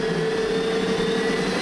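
A historic Whittle jet engine with a rebuilt fuel system runs at about 5,000 RPM, giving a loud, steady whine and roar with a sustained tonal hum and no breaks, close to the engine.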